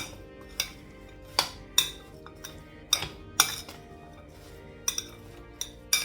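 Chopped pieces of slightly mature raw mango being tossed with salt in a bowl for a sadhya-style mango pickle, with a series of sharp clinks and scrapes of a spoon against the dish at irregular intervals, close and fairly quiet.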